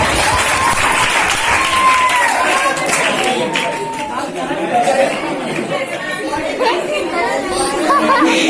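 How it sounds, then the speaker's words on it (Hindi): Audience of children and adults applauding at a children's religious school drama as the grandmother character enters, with clapping mixed into constant chatter and voices throughout. "दादी माँ के लिए जोरदार तालियां"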